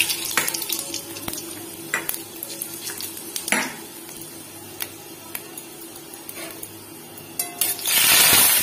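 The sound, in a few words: dry red chilli, bay leaf and cumin sizzling in hot oil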